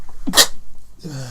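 A person gives one sharp, close sneeze with a brief breathy lead-in during a podcast recording. A low voice murmurs just afterward.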